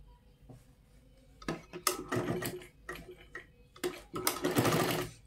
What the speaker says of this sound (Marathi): आता आपण इथे शिलाई मारून घेणार आहोत.